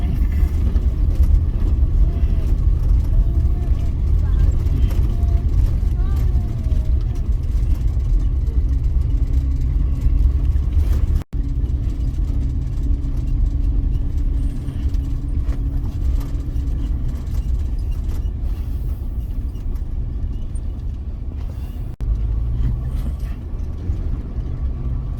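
A Chevrolet Blazer rolls along a dirt road, its engine giving a steady, close rumble under continuous tire and road noise for the whole stretch, with no talking.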